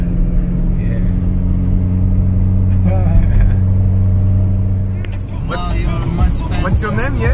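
Car driving along a Swiss road while hitchhiking, a steady low engine rumble inside the cabin throughout, with people talking over it.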